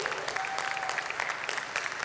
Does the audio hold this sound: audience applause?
yes